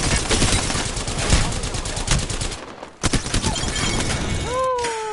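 Automatic weapon fire from an overpowered gun in the battle royale game Apex Legends, dense rapid bursts that cut out briefly, then resume amid clattering effects, with a voice talking over parts of it.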